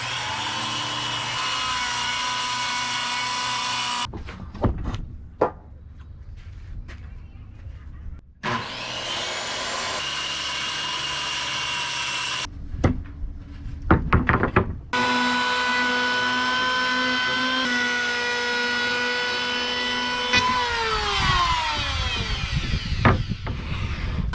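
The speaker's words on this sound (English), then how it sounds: "Bet you didn't know I own an old school corded circular saw for the big work." An old corded circular saw cuts wood during a wooden boat restoration, its motor whining loudly through long cutting passes broken by short pauses, then spinning down with a falling tone at the end.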